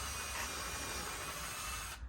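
A steady, even whir of a small power drill boring a pilot hole for mounting an outdoor security camera, running continuously for about two seconds, then stopping abruptly.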